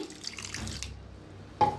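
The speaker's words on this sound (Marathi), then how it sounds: "थोडंसं ओतूया पाणी।" Water is poured into dosa batter made from flour and salt, giving a soft, brief trickling splash followed by a small clink, faint and close.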